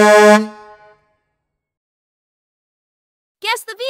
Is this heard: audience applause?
no